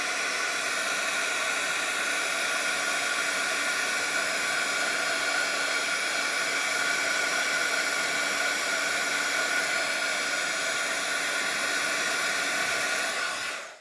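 A heat tool blowing hot air over watercolour on a card, a loud, steady, unbroken whooshing hum lasting the whole time before switching off at the very end.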